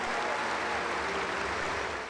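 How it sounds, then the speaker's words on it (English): A basketball crowd at Mackey Arena claps and cheers in a continuous, dense roar as seniors are introduced, heard at a distance without a break. "the crowd was loud with its cheers and applause as the 5 seniors were introduced one by one"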